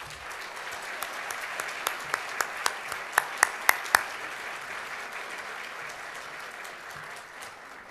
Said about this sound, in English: I think we ought to give them all a round of applause